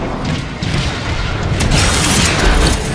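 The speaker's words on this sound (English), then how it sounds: "Optimus, there are 3 warp cannons shelling the Ark" Warp cannons shelling in the Transformers: Fall of Cybertron video game, a dense stretch of heavy booms and crashing impacts rolling together, loud and close with no one speaking.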